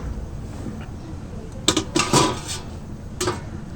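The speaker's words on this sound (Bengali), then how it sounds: "এবার ঢাকনাটা খুলে নেবো" A metal lid lifted off a cooking pot of palm-fruit fritters steamed without oil, giving a few short clinks and scrapes in the middle, near and moderately loud, with quiet background otherwise.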